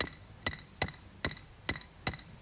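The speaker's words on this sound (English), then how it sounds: "A hammer is a very simple but useful machine." A hammer knocks circus tent pegs into the ground outdoors, six evenly spaced sharp strikes about half a second apart, each a crisp, clear thud with a slight ringing edge.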